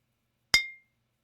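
A single bright clink of spoons or glass bottles, recorded as raw material for a hacking sound effect, strikes once sharply and rings briefly before fading into silence.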